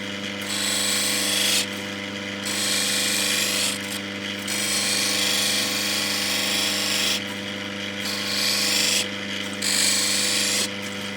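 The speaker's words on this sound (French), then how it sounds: "Alors je passe beaucoup sur la meule, vous voyez, mais elle enlève beaucoup moins que la précédente" A grinding wheel cuts and shapes a natural Ethiopian opal, producing a constant mechanical hum with a harsh, abrasive scraping that surges in repeated bursts every couple of seconds as the stone is pressed against the wheel.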